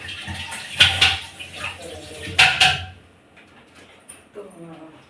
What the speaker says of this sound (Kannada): ಇವಷ್ಟು ಎಲ್ಲ ಪಾತ್ರೆ ತೊಳೆದ್ಬಿಟ್ಟು ಇಷ್ಟೇ